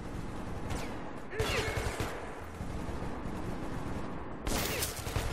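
Gunfire in Metro 2033 Redux, with sharp shots at the start and two loud bursts near the middle and end over a rumbling background, close and punchy.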